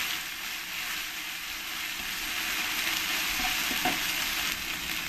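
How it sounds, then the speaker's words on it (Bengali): A pan of potato and pea pulao, just salted, is stirred over the heat, with a steady, dense frying sizzle close up and a few soft scraping strokes of the spoon, no voices. "দিয়ে ভালো করে আমি নেড়ে দেব"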